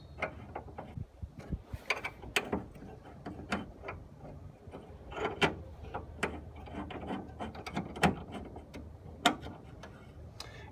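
Allen bolts being tightened on a B2 bike carrier, giving a string of small metallic clicks and ratchet-like ticks at an uneven pace, close and fairly quiet against a low background hum.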